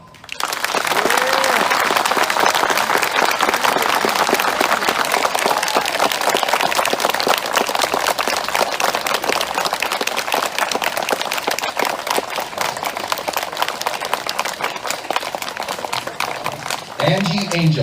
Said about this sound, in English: we're going to take another vote just by applause